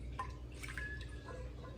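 Water dripping and trickling from a wrung-out cheesecloth while making almond milk, soft irregular drips and splashes over a steady low background hum.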